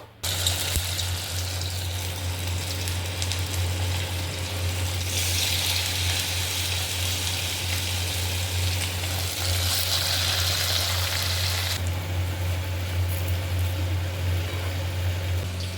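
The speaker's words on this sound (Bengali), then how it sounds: "গরম গরম পকোড়া ভাজা চলছে" Pakoras fry in hot oil with a continuous, even sizzle and crackle that lasts throughout, over a low steady hum.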